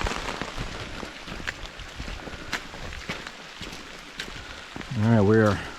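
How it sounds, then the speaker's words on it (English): Light rain falls steadily on a trail campsite on the Appalachian Trail in Pennsylvania, a soft continuous patter with scattered drips, with a brief voice near the end. "we think this is about the lightest the rain's gonna get"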